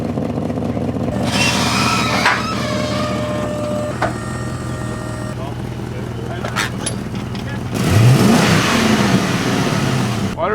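A car engine with an exhaust leak at the flex pipe revs up loudly, then settles into a rough, steady idle with a rising roar near the end, close by under voices talking.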